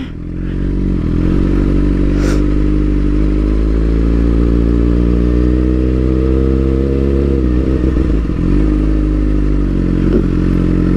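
A motorcycle engine idles loud and close, holding a steady, even note during slow riding practice with clutch work and a turn, and a brief scrape partway through; no voices.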